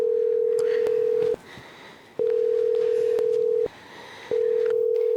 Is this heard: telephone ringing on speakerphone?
yes